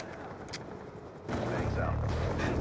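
A death machine minigun fires in the video game Call of Duty Black Ops 2, a dense continuous roar of rapid gunfire kicking in abruptly after a quieter stretch of rumbling battle noise.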